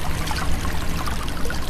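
Water pouring steadily into a sink in a video game, a continuous close splashing trickle with no pauses for the whole moment.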